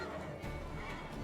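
In The Witcher 3: Wild Hunt, a horse whinnies briefly amid dense game noise from a fight with rabid dogs, the neigh blended into a continuous loud mix.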